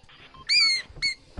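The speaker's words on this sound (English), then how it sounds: "it's just dog squeak toy" A dog's squeak toy gives two quick high squeals, near and fairly loud, over a low background murmur.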